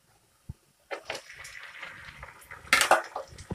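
Raw chicken goes into a pan of hot oil and fried onions for chicken do pyaza, a soft clack, then rising sizzle mixed with scraping of a utensil and clinks against the pan, close and fairly loud.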